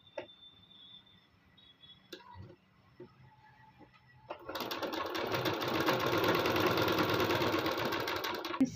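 A sewing machine runs steadily along the edge of a suit lining, a dense continuous whir that starts after a few quiet seconds of faint handling clicks and holds loud and close to the end.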